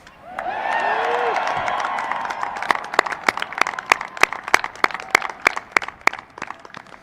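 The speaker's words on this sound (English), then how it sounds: "Would you all just give a round of applause to a fellow cadet" Crowd at an Air Force Academy graduation applauding a fellow cadet: a dense, cheering wash of applause that thins into sparse, distinct claps spread across a socially distanced audience.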